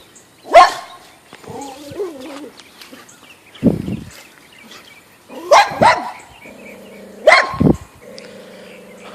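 A neighborhood dog barks outdoors in loud, sharp bursts spaced a few seconds apart, mixed with whining, yelping tones and bird-like chirps between barks.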